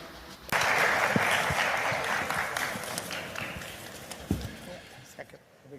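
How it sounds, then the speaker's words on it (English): An audience at a forum honouring a minister gives steady applause lasting several seconds, with a few sharper louder claps, under a voice speaking at the same time, and the clapping thins out toward the end. "We should give a round of applause to the Minister."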